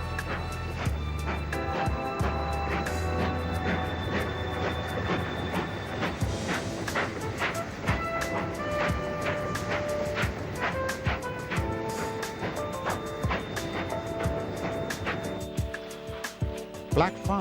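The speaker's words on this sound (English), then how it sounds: "Black 5 44841 hurries a special freight consisting of banana vans towards Wolverhampton." Black 5 steam locomotive No. 44841 hauling a special freight of banana vans toward Wolverhampton, a steady rumbling roar with rhythmic wheel and rail clatter running continuously at close range, with music or talk layered over it.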